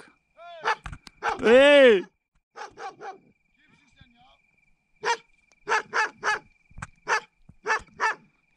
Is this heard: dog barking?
yes